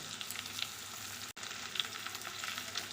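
Potatoes and tomatoes fry in a pan with a soft, even sizzling hiss, briefly cut off for a moment, with no talking.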